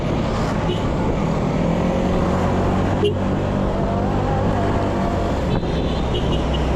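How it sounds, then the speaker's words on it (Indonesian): Dense roadway traffic with large vehicles, a steady loud engine and tire roar close by throughout with no clear gaps, heard from a motorbike ride toward Sanghyang Kenit near Bandung. "volume kendaraan semakin ramai dan banyak diisi oleh kendaraan-kendaraan besar"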